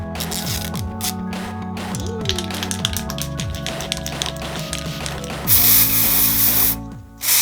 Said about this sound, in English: Now it's time to spray the hair orange.